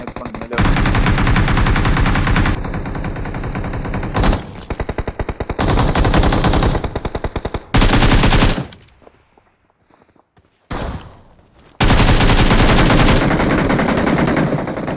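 Loud, sustained automatic gunfire in a shooting video game, long rattling bursts separated by short gaps and a few seconds of near silence before another burst.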